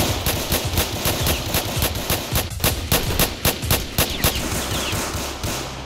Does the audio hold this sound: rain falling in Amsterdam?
no